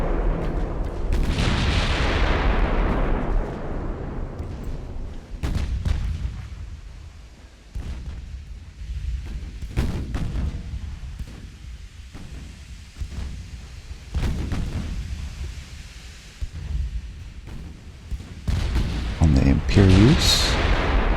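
Heavy warship guns fire salvos in the naval combat game Ultimate Admiral: Dreadnoughts: a run of deep, rumbling booms and blasts that roll over one another, loud and close, with someone talking over them.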